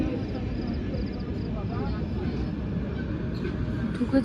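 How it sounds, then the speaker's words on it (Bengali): A train rumbles into Rampurhat railway station, a steady low rolling drone heard from on board a train, with faint squeals and background noise throughout. "এখানে কোনো একটা ট্রেন ঢুকেছে"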